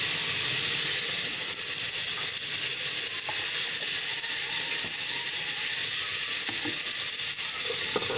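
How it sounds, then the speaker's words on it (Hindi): Ginger garlic paste fries in a pan while macaroni is being made, giving a steady, close hiss and sizzle with faint stirring scrapes throughout. There is no speech. "पेस्ट को हम भूनेंगे।"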